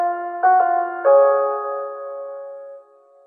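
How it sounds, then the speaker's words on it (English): A soft, calm chime from a Batman Arkham video game: a few sustained tonal notes struck in quick succession, ringing out and slowly fading, heard alone and fairly close. "hear one of the most nonchalant chimes ever"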